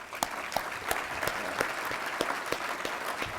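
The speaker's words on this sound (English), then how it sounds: "I'd like to give one more round of applause just for everything that they do." Applause from guests at an annual dinner, a steady clatter of many hands with a few crisp, distinct claps standing out, moderately loud and unbroken throughout.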